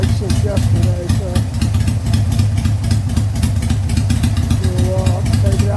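A Harley-Davidson Sportster 883 motorcycle with a velocity stack and carburetor idling steadily, a loud, even, lumpy rumble throughout, with a voice briefly over it.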